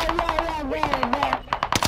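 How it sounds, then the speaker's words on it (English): Rapid video-game gunfire pops in quick repeated bursts through a firefight, with an enemy firing from above, while a player's voice talks over the shots. "I'm getting shot from someone, but I can't see him"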